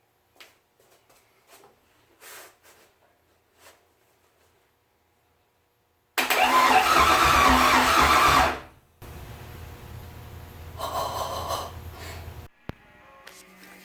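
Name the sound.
race car engine starter turning for the first time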